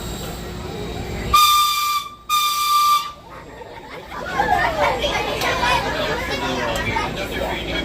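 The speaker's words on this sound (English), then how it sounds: "you're going to hear two loud whistles" A train whistle gives two loud, shrill blasts in quick succession, each lasting about a second, at Knott's amusement park at night, followed by a crowd chattering and murmuring in the background.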